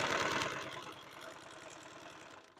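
A sewing machine stitches 1-inch webbing in a quick, even mechanical rhythm, close by and fairly quiet, slowing slightly near the end.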